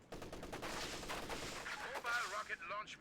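Machine gun and artillery fire crackle through a World War II strategy video game battle, a dense, continuous mix of bursts and blasts with a brief whistling tone near the end and faint voices underneath.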